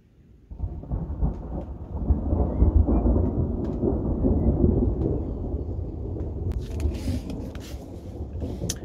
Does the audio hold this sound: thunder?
yes